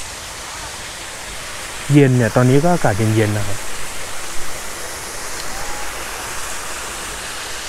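A waterfall at Doi Ang Khang in cool weather gives a steady broadband rush of falling water throughout, with someone speaking briefly over it near the start.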